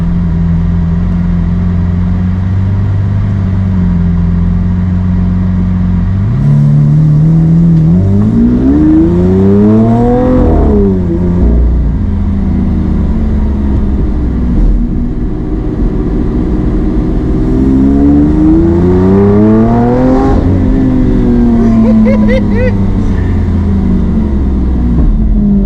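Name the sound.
car engine revving while accelerating in first gear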